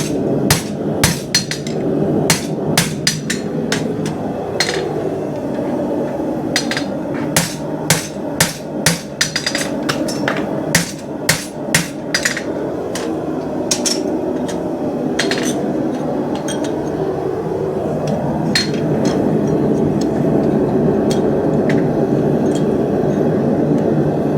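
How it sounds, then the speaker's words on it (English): A farrier hammers nails through a horseshoe into a horse's hoof, a rapid series of sharp, ringing metallic strikes in uneven bursts up close, then a steady scraping or rasping texture after the hammering stops. "Go about 3/4 of the way down until I can feel the anvil."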